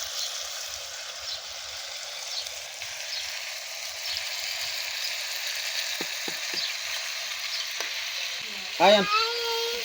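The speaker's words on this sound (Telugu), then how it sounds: "టమాటాలు అయితే మెత్తగా ఉడుకుతున్నాయి" Tomatoes with salt cook in a pan, giving a steady, soft sizzle and bubbling close by, with a few light taps and a brief voice near the end.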